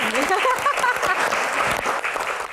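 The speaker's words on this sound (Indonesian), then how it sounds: "Tepuk tangan dong buat Rano" Applause from an audience at a Q&A event, a dense, steady patter of many clapping hands close by, with some voices and cheers mixed in throughout.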